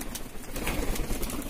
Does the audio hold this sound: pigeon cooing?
yes